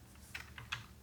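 Typing on a computer keyboard while writing HTML code, a few quick soft key clicks in a brief close burst, faint and with no talk.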